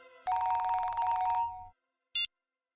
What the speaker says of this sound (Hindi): अब तो मोबाइल की रिंगटोन निकाल रहे हैं